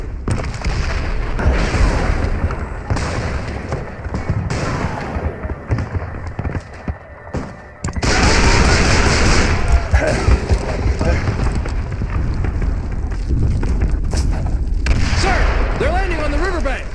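Cannon fire in the Call of Juarez Bound in Blood video game, heavy continuous battle noise with booming blasts and crackling gunfire that thins briefly midway, then surges back loud and dense over shouted voices.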